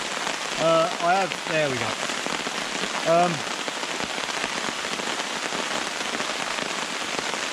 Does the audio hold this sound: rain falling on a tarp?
yes